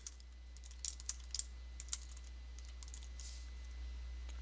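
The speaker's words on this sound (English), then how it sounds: "type in the customer name" Light, quick keystrokes on a computer keyboard come in small bursts and single clicks over a steady low electrical hum, quiet and close, with no talking.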